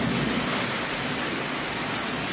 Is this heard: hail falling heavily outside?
yes